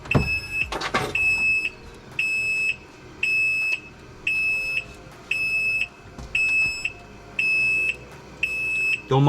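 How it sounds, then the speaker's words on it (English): Repeated warning beeps from a Can-Am Maverick R side-by-side left in neutral, a steady rhythm of short electronic tones about every second, loud and clear over a low background hum. "It's just because I have the machine in permanent neutral. It's got that annoying beep"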